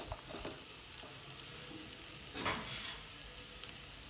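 Pumpkin curry fries in a pan with a soft, continuous sizzle and occasional brief stirring noises, heard close but quietly and without any talk.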